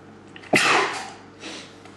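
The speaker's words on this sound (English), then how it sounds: "Feel a sneeze coming on." A single sharp, close sneeze bursts out, followed by a softer exhaled breath.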